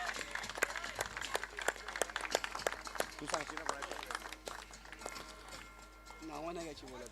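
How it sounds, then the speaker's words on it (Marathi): Crowd claps at a tennis-ball cricket prize ceremony for the Girgaon Champions League, a dense run of sharp hand claps over about seven seconds, with voices and some talk mixed in underneath. "जरा जोरदार टाळ्या होऊ द्या युवा विजनसाठी, गिरगाव बॉईज साठी"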